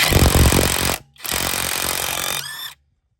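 A Stromo AWA25 cordless impact wrench loosening a car wheel bolt with a 17 mm socket makes loud, close rattling hammering in two bursts split by a brief pause, ending abruptly in silence.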